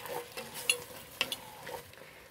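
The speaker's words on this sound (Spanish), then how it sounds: "y lo voy a revolver" Beans with salt and cumin being stirred in a pot: soft, faint scraping and a few light metallic ticks over a low simmer, brief and close, with no voices.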